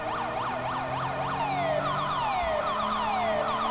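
A police car siren wails in GTA V with the LSPDFR mod, looping steadily and loudly over the constant hum of a driving vehicle, with the pitch dropping partway through.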